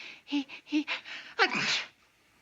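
A buildup of quick breathy inhales leads into a single loud, sharp sneeze up close, then silence.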